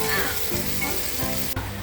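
Onions and vinegar sautéing in a pan for beef curry crackle and sizzle loudly and close, with a steady hiss and light stirring scrapes.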